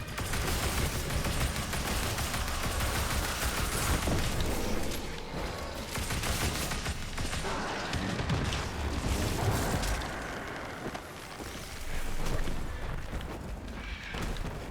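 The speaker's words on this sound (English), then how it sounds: "where is he shooting from?" Dense, continuous gunfire and booming impacts in the Destiny 2 shooter, loud sustained volleys with occasional heavier blasts, running steadily throughout without speech.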